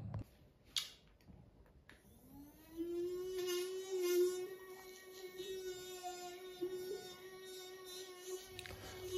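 A Dr. Isla electric toothbrush starts up and vibrates steadily while brushing, a close, sustained buzzing hum with a scrubbing texture that runs without a break until the end.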